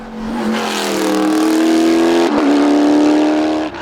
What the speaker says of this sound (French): on retrouve le pilote normand Julien Dupont avec son imposante Volvo V8 Chevrolet.